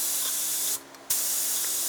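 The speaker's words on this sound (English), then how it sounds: "One is just air to spray, it's just like a blowgun." A spray gun blowing air only, a loud, close, steady hiss that cuts out briefly near the middle and then resumes.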